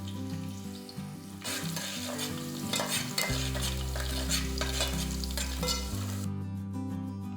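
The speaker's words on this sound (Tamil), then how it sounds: "இதுலேயே நாலு பல் பூண்டு தட்டி எடுத்து வச்சுருக்கோம் இதையும் போட்டுக்கலாம்" Fenugreek, curry leaves and crushed garlic fry in hot oil for an egg gravy: a steady close sizzle with repeated spoon-stirring scrapes, over a low droning hum.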